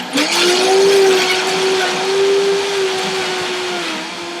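A blender whirs loudly and steadily up close while a protein shake is blended and pushed down with a tamper, its motor pitch wavering slightly and easing off toward the end.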